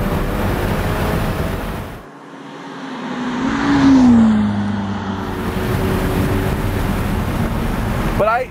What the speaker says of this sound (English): I hear engine, but it's just not dominating the experience.